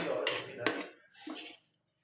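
A utensil scoops food from a dish, giving a few close clinks and scrapes of metal against the dish in two short bursts, with no talk.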